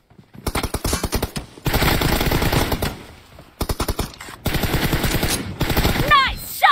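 Rapid automatic gunfire in PUBG Mobile, close and loud, coming in several long bursts of quick shots separated by short pauses, with a brief voice near the very end.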